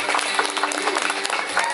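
A party crowd breaks into brief, dense clapping that fills the whole moment, close and busy with overlapping claps.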